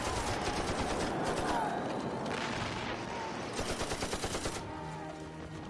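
Rapid bursts of German machine gun fire in a First World War battle scene, loud rattling volleys repeating over continuous rumbling battlefield noise, with a spoken voice partly over it.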